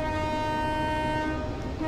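A custom train horn sounds from a Mumbai Central–Ahmedabad AC double decker in a train simulator game, a steady sustained multi-tone blast running continuously and loud with rumbling rail noise beneath.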